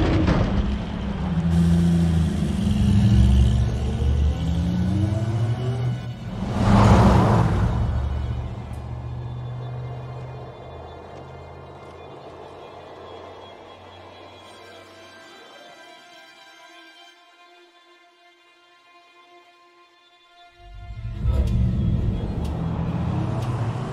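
Car driving in the video game Dying Light 2, a loud engine rumble and revving that swells, then fades to a low hum with game music before the engine roars back near the end.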